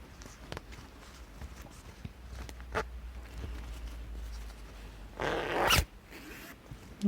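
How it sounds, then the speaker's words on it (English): An invisible zip on fabric is pulled open all the way down in one close, rasping run lasting about a second, after quiet handling noises. "next you actually open the zip the whole way down"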